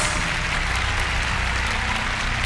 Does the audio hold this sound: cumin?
no